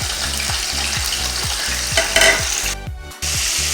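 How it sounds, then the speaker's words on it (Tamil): Dry fish sizzling steadily as it fries in a pan, with a continuous bright hiss and a regular rhythm of scraping stirs, plus a brief gap in the sizzle near the end. "இப்போ கருவாடு நல்லா பொரிஞ்சிருச்சு."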